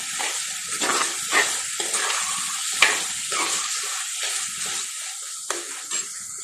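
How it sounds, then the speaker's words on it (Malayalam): Potato and vegetables sautéing in a pan: a continuous sizzle broken by repeated scraping stirs and occasional sharp clinks, close and fairly loud, with no talking. "ഇതെല്ലാം ഒന്ന് വഴന്ത് വരട്ടെ"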